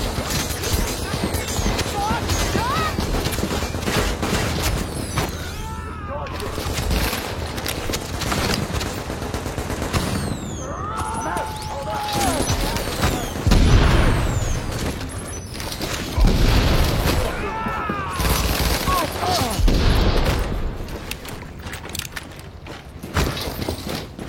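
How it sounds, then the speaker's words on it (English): Rapid bursts of video game gunfire crackle and boom through a busy, dense mix, with a player's voice talking over much of the action. "Shooting out there."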